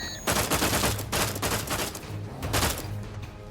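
Loud repeated bursts of automatic fire from the player's gun in The Outer Worlds 2, several dense volleys in quick succession with short gaps, close and without talk.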